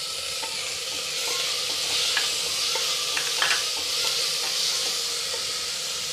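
Chopped tomatoes frying in a pan for a pressure cooker veg biryani, a steady close sizzle with scraping stir strokes and light clinks scattered through, no talking.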